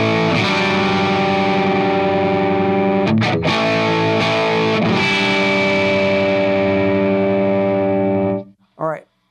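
A heavily distorted electric guitar chord rings out loud and sustained through the amp's distortion channel, with a couple of brief pick scrapes, then cuts off into a short spoken word.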